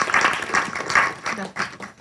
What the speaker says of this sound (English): Let's give a big round of applause to the Connecticut Council on Social Studies.